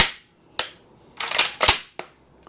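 Dry-firing a repaired Benelli shotgun, sharp metallic clicks and clacks of the action cycling, several distinct snaps close to the microphone with short pauses between.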